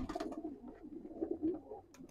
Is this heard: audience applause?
no